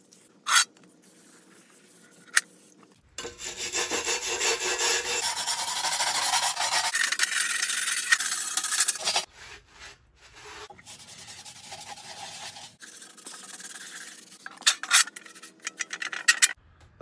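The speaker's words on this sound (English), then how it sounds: "scrub it with a wire brush, and then wipe it down" A wire brush scrubs a steel M1916 German sniper shield being restored, a loud close raspy scratching in long sustained strokes, then shorter bursts after a pause.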